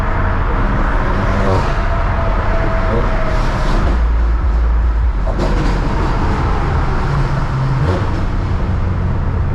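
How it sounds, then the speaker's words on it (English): A tuned 800-horsepower BMW M6 drives hard through New York City streets on the FDR, its engine roaring loud and continuous, with rising and falling revs over rushing road noise. "I'm never gonna get over how this car sounds."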